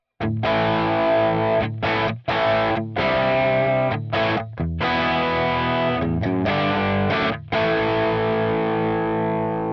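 A heavily distorted electric guitar through a Line 6 Trainwreck Express amp model plays chunky, sustained chords with short pauses between phrases, loud and close.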